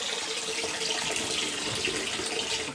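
A hot water tap runs steadily during an emergency plumbing repair, a loud, constant hiss of flowing water that carries through the whole clip with no talk.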